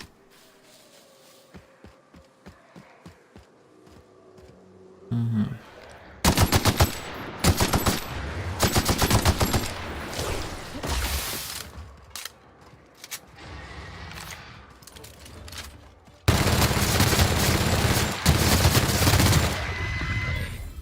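Heavy automatic gunfire from a big gun in The Outer Worlds, aimed at a large Raptidon creature: scattered shots at first, then long, loud sustained bursts of rapid fire with intervening rattles and impacts.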